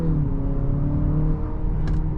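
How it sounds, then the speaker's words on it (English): 2025 Nissan Murano Platinum AWD with a 4-cylinder engine accelerating from a start, a steady smooth engine hum with rising whir heard from inside the cabin, moderately loud with no talk. "I will say it has some pep to that 4-cylinder engine."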